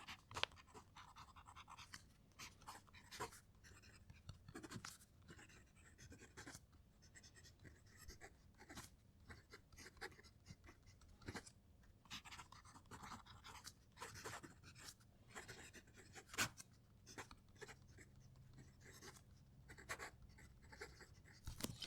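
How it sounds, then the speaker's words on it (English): A fountain pen nib, a PenBBS among the pens tested, scratches across paper in quiet, irregular strokes and short ticks, heard very close and faint with no talking. "I'll keep quiet whilst I'm writing these so you can hear the pens writing."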